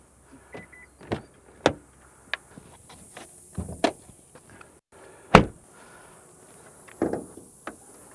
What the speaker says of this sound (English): let's get that hood popped and check out what's under the hood